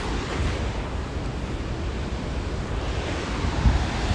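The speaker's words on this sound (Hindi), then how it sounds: "पानी का फ्लो देखो गाइस कितना ज़बरदस्त है।" A flooded river rushes near Vasudhara Falls on the Badrinath route as a loud, unbroken roar of turbulent water, dense and constant from start to finish with no voices.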